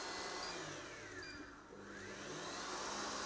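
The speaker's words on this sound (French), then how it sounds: "Nous allons revenir donc sur notre batteur" Electric mixer beating French meringue, a constant loud whirring hum with a faint pitch sweep midway as the speed shifts, alone without talk.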